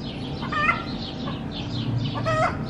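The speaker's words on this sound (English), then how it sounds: "Traffic jam in the chicken house." Chickens cluck softly inside a chicken house on a hot summer day, a broody hen settling in among them; several overlapping clucks and short calls come in bursts over a steady low background hum.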